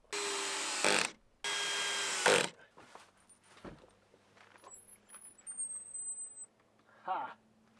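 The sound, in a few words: screws being driven into a wooden window frame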